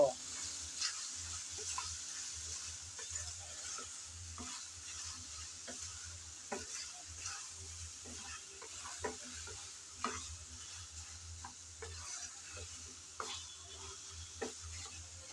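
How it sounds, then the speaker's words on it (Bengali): Spiced tomato chutney stirred and fried in a pan, with a steady soft sizzle and repeated scraping stirs ticking through it, close and fairly quiet, no voices. "সব মশলা দেওয়ার পর নেড়েচেড়ে ভালোভাবে কষিয়ে নেব"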